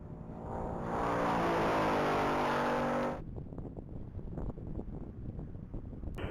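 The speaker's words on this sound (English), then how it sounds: "vehicle 302 is on track. That's going to be Matthew Watterson in a blue 2023 Ford Mustang" A blue 2023 Ford Mustang roars past at top-speed mile racing on a track, a loud sustained engine pass with wind rush for about three seconds before cutting off to quieter outdoor ambience.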